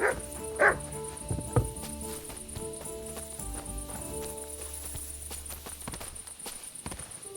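Dog barking in the medieval game Kingdom Come: Deliverance 2, a few sharp barks near the start over a soft, steady game ambience with light footsteps and music-like tones, then quieter.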